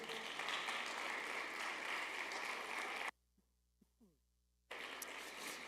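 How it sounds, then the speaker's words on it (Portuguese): Church congregation applauding in a dense, even wash of clapping that cuts to near silence with a few faint sounds, then resumes just as steadily. "Você pode aplaudir ao Senhor por isso?"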